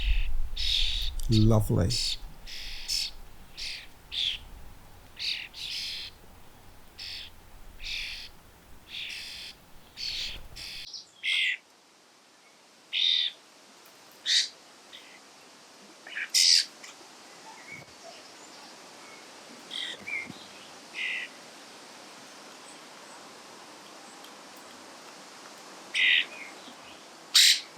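Starlings calling in a garden, repeated short chirps, whistles and squawks scattered across the stretch, some near and loud, others fainter, over quiet background with brief rustling and a voice speaking briefly early on.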